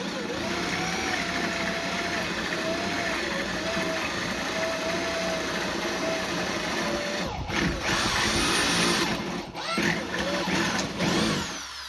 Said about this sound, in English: Cedar is very soft and easy to drill through.